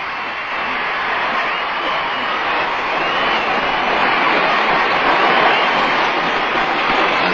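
Dense crowd cheering and applause fill decorated streets during the British state visit of Sudan's President Abboud, a steady, loud roar from many voices with no distinct speech.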